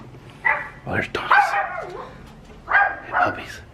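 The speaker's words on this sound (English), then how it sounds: "Oh, there's dogs." Dogs bark and yip in a few short, fairly close bursts, with pauses between them and talk underneath, near a Route 66 car museum.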